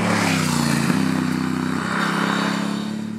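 Honda CMX 1100 Rebel DCT custom motorcycle engine running close by, a steady low throbbing drone that shifts pitch slightly as gears change, loud and alone.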